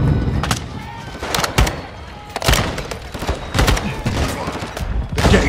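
Dense in-game gunfire from Call of Duty: Modern Warfare II, with sharp loud bursts and single shots cracking in irregular volleys over heavy battle noise and thuds.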